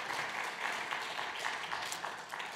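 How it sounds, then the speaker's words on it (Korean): Steady applause from a church congregation at a Sunday service in Yongin, filling the room with dense, even clapping from start to finish without a break. "수료증과 선물을 전달할 때 박수로 축하해 주시기 바랍니다."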